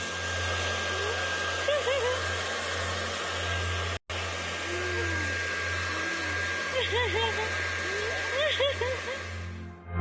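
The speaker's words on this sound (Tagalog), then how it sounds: "Nagbo-blower daw siya ng buhok kasama ang kanyang anak" A hair dryer blows steadily at close range while drying hair beside a child, its constant whooshing roar interrupted by one brief cutout, with faint voices and small sounds in the background.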